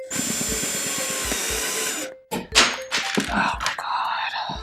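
Screws are driven into a wall sign with a power drill, a whirring drill run followed by a pause, then thunks, clicks and short bursts of driving.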